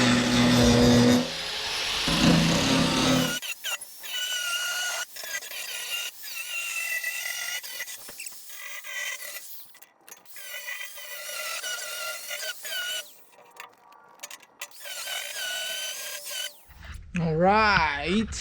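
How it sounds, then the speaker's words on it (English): A flap disc grinds paint off metal during a fuel pump install, loud and close in short bursts of varying length with gaps between, while a voice talks over parts of it. "clean it up with the flap disc"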